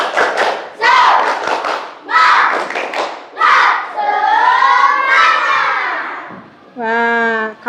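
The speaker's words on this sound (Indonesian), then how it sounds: "Yuk, kalau menyenangkan tepuk semangat lagi." Primary schoolchildren in a classroom doing a rhythmic spirit clap, bursts of chanted voices and clapping in a patterned sequence, loud and close, ending with a sustained group shout.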